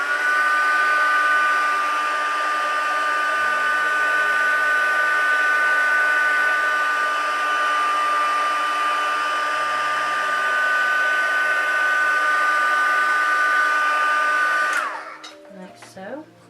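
A hair dryer heat-setting makeup runs loud and steady as a continuous whirring blow for about fifteen seconds, then switches off into quiet handling noises.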